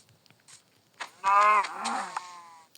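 A single drawn-out cow moo in Minecraft, loud and close, with a bending harmonic tone, preceded by a few soft clicks and ticks.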